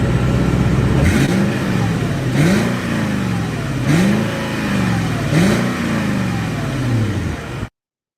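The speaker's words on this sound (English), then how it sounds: "nobody heard an LX 570 outside revving up" A Lexus LX 570 revs repeatedly outside, four sweeping throttle blips rising and falling in a steady rhythm over a loud engine drone, before cutting off abruptly.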